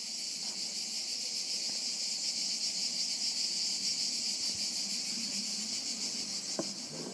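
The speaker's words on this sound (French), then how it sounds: "au calme, au champ des grillons." Crickets chirping outdoors by a quiet south-facing terrace overlooking a forest in Vidauban, a dense continuous high shrill trill, steady and fairly loud, with faint background noises.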